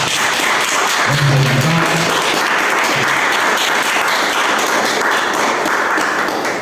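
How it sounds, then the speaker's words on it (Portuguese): A church congregation applauds loudly and steadily, a dense wash of clapping that fills the space from start to finish. "Vamos aplaudir Jesus bem forte"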